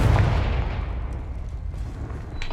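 A Confringo blasting spell explodes in the video game Hogwarts Legacy, a loud, booming blast that fills the moment and then fades into a rumbling decay.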